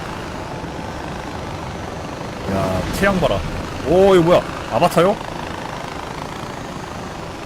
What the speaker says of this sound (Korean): 그래도 뭐 헬기면 1km 금방 가지